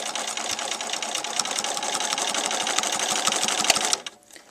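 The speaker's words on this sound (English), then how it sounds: "And then I'm going to begin stitching again." A sewing machine stitches fabric at a steady fast pace, a loud close rapid mechanical whirring and clatter that runs continuously for about four seconds and then stops abruptly, leaving a quiet room with no talk.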